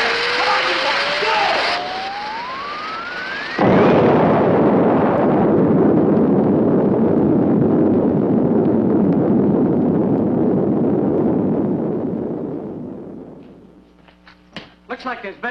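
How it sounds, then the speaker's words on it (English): A loud explosion from the 1957 science-fiction film Invasion of the Saucer Men, set in Pelham Woods, bursts in after a rising whistle-like tone, then a long roaring rumble that slowly decays over about ten seconds before fading into quieter scattered sounds. "Looks like there's been some kind of an explosion over in Pelham Woods."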